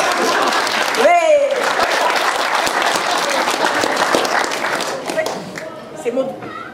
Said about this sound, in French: Je vous propose un tonnerre d'applaudissements pour notre modératrice